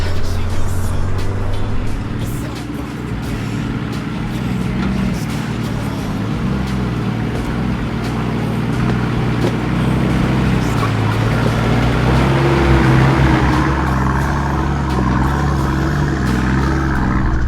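A 4WD engine climbs a wet, rain-soaked track in low second gear under steady throttle, droning loud and continuous throughout with a slight rise in pitch toward the end.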